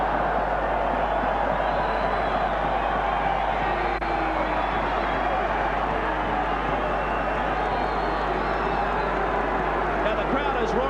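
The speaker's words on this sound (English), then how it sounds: "Now the crowd is roaring because there was an incident in back play" A rugby league stadium crowd roars in a steady, dense wash of noise throughout, with commentary talk carried over it.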